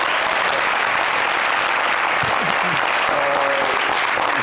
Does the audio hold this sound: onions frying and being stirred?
no